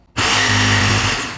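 A jigsaw cuts the side of a rectangle, a loud, steady, high motor whine with a buzzing blade that starts abruptly, holds for about a second, then begins to fade as it winds down.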